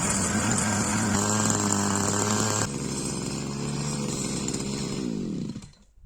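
A Forte MKB-25 Lux mini motor cultivator's small petrol engine runs loud and close with a buzzing, steady drone, drops to a lower pitch midway, then winds down and stops.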